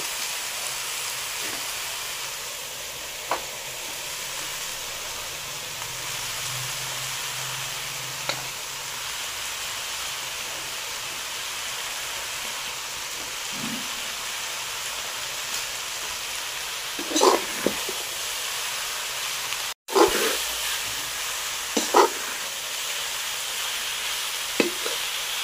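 Carrots and cabbage frying in a hot pan, a continuous dense sizzle throughout with occasional stirring clatters and scrapes, clustered toward the end, no voices.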